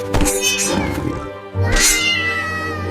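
A cat in an animated children's story meows twice, close and clear, with a long drawn-out second cry.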